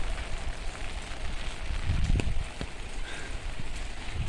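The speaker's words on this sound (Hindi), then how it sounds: "थोड़ा थोड़ा बारिश गिर रही है।" Steady soft patter of light rain with a low rumbling wash, continuous and close, no voices.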